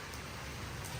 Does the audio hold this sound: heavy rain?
yes